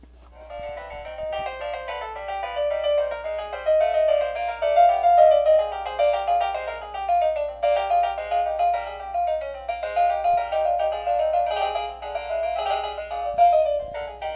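A Bach piece plays from a MIDI file through a CPC MIDI card as a continuous stream of bright synthesized notes in a busy contrapuntal pattern, steady and moderately loud over a low electrical hum.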